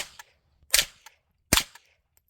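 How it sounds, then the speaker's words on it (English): Two sharp suppressed .22 gunshots with supersonic rounds through a Huxwrx Flow titanium suppressor, each a crisp close crack with small clicks around it and short gaps of quiet. "3 rounds of unsuppressed, and then 3 rounds of suppressed. 3 rounds supersonic, 3 rounds subsonic"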